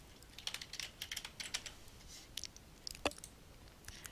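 Typing on a PC keyboard, a quick run of light clicking keystrokes at an irregular pace, close and soft, with one sharper tap partway through.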